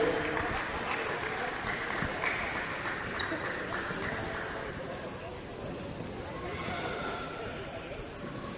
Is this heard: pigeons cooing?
no